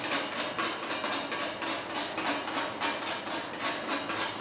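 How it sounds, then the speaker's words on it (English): A knife scrapes lemon zest out of a grater, making close, repeated rasping strokes in an even rhythm of about two per second, loud and with no talk. "Now our lemon will be all stuck up in our grater, so you need to use a knife to get the lemon off"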